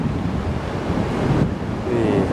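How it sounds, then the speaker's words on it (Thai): Large ocean waves crash at Carmel Beach with a loud, continuous surf roar, mixed with gusty wind buffeting the microphone. "คลื่นใหญ่มากครับพี่น้องคงได้ยินเสียงนะครับ"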